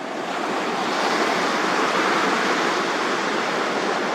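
Ocean waves roll in a continuous broad wash of surf, loud and steady without breaks, with a light hiss of wind mixed in.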